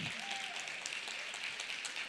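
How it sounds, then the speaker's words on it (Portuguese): An audience at a design biennial in Córdoba breaks into steady, dense applause, a continuous wash of clapping throughout with no voices standing out. "Y los aplausos empiezan solos, ¿eh?"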